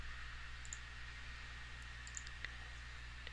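Faint, isolated mouse clicks tick softly over a quiet background hum while someone works at a computer, a few separate light taps spread across a few seconds.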